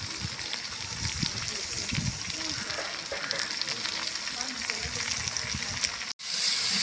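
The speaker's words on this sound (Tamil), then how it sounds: "புதினா சேர்த்துட்டு நல்லா வதக்கி விட்டுக்கலாம்" Coriander and mint sautéing in a pan for a large batch of beef dum biriyani, a steady, dense sizzle with scattered crackles and stirring scrapes, ending in a brief cut and a louder burst of frying.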